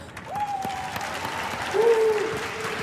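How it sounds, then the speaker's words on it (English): Scattered audience clapping for cosplay contestants at a DreamHack contest in Mannheim, fairly soft and distant, with two sustained tonal whistles or feedback notes sounding over the claps. "So please, a big applause for already all the contestants"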